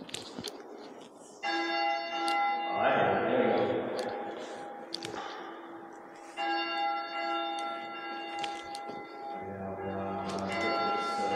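A church bell rung by visitors as a tradition of three pulls, heard in two long resonant bouts of ringing that linger and fade, with people talking throughout and over the gaps.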